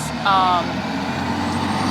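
A fire truck passes by outside an industrial park, a short burst of siren or horn tones over a low rumbling engine, moderately near, with people talking.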